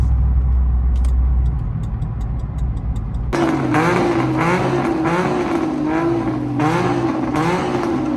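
A car with a 327 engine revs hard during a night drive, a low steady engine drone that abruptly jumps into loud, rising and falling revs with sharp bursts, near and dominant.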